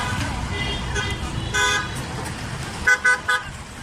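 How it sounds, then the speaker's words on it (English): Several short car horn toots sound over steady road traffic, with a cluster of three quick honks near the end. "Went the horns on the speeding cars."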